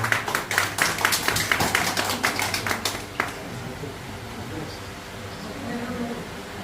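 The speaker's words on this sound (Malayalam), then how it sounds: "എല്ലാവരും നല്ലൊരു കയ്യടി കൊടുക്കുക" An audience at a Christmas celebration inauguration claps in a quick, steady round of applause for about three seconds, then it stops and a room tone with murmuring voices follows.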